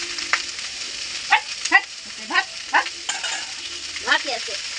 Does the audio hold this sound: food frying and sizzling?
yes